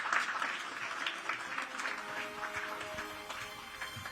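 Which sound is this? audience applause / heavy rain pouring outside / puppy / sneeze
audience applause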